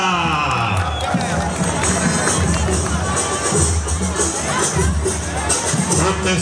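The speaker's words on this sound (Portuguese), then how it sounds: "Os aplausos de vocês para Lampião e Maria Bonita." A busy outdoor crowd at a 7 de Setembro parade in Santa Terezinha, Pernambuco, Brazil, claps and cheers with scattered whoops, a dense lively hubbub continuing throughout.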